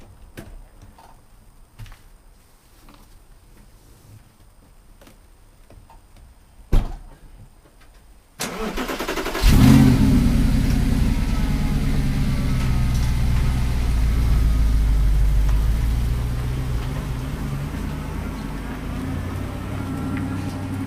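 Audi R8 V8 with manual gearbox fires up with a sharp burst, then settles into a loud, steady low idle that runs on to the end after a quiet stretch with a single thud.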